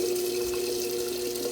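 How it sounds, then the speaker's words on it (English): Tap water runs steadily into a kitchen sink fitted with a garbage disposal under repair, a continuous close splashing rush with a faint steady hum and no talk. "And so we're gonna run some water in here."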